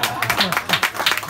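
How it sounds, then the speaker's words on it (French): Audience clapping at a stand-up comedy show in a café, a short burst of dense applause mixed with crowd noise and some voices. "On peut l'applaudir bien fort."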